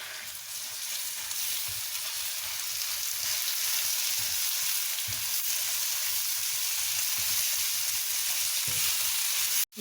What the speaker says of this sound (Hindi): अब मैं इसमें चिकन डाल रही हूँ।